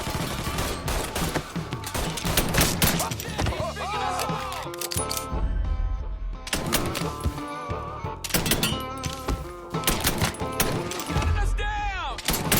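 Repeated bursts of gunfire from several weapons rattle out in Mafia 3, dense volleys broken by short pauses amid chaotic battle noise, with voices shouting now and then.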